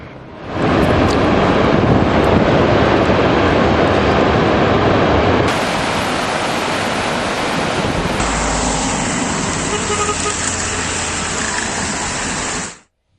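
Surplus water released from Pillur Dam roars into the flooded Bhavani River near Coimbatore, a loud, steady rushing torrent that carries on without pause, changing tone in sections as the view shifts, with no voices.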